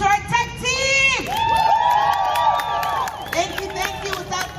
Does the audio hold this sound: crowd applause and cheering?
yes